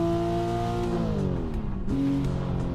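Porsche 992 GT3 RS engine in a racing simulator, a steady high-pitched wail that holds its pitch, dips as the revs fall, then climbs again, loud and close with no talking.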